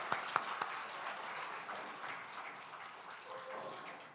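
Faint, distant applause from a church congregation at an Easter union service, opening with a few sharper claps and then settling into a soft, steady wash.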